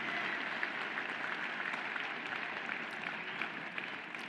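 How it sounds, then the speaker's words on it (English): Audience applause for mentors at a district robotics event, a soft, distant-sounding wash of clapping that stays fairly even throughout. "Let's give an amazing round of applause to all of our phenomenal mentors."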